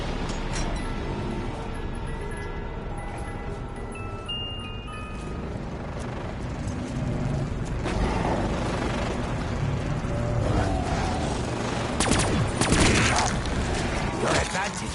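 Explosions and gunfire from a video game: a dense, continuous rumble of blasts and firing that swells near the end, with no clear speech.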